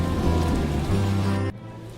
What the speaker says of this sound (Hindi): बरसात फिर से शुरू हो जाती है